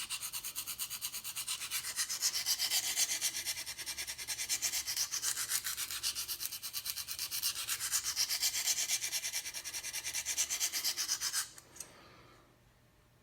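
A knife edge is honed on a KME sharpener stone in steady back-and-forth strokes, a dry, gritty scraping rhythm that stops abruptly near the end, followed by a faint quiet tail.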